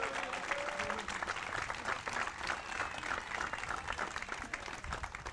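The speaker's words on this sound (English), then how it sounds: "Let's give Mike a big round of applause." A crowd at a college baseball ceremony gives a round of applause for the coach, a steady, fairly faint roar of many hands clapping together with a few voices underneath.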